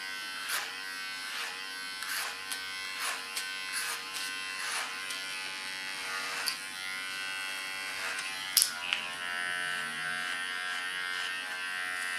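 An electric hair clipper buzzes steadily and close while cutting a short platinum pixie, its hum broken by quick soft passes and small clicks through the hair.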